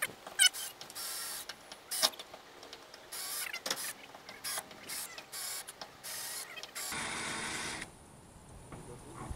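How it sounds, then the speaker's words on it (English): Bursts of a power drill drilling out a fastener on a bus roof during a roof raise, short whining spurts separated by pauses, then one longer sustained run outdoors. "Grandpa's going to drill out the last one"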